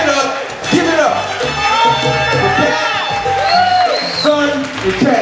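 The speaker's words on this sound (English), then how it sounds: "I want you to clap your hands. I want you to show some love." An audience at a poetry event claps, whoops and cheers steadily, with a host's voice shouting over the crowd noise.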